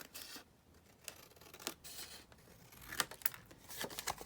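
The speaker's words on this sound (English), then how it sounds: "Just cut along the top." Scissors snip along the top edge of a paper card being made into a journal card, a series of quiet close crisp cuts and rustles, irregular and spaced out, with no talking.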